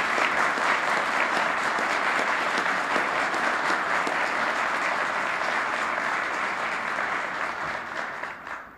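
An audience at a Washington speaking event gives sustained, dense applause: a steady wash of many hands clapping at close range that holds evenly and begins to taper in the final second.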